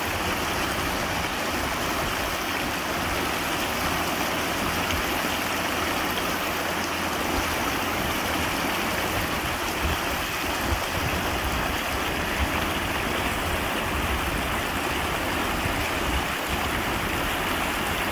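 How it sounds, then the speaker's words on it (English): River rapid water rushes over rocks at a creek mouth on the New River, a steady broadband roar close by, continuous and alone with no talk. "With all the rocks, it's too hard to get up past this rapid"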